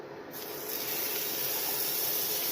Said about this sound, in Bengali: তো এটা আমি এবার ভাজবো। এখানে আমি বাটার দিয়ে দেবো।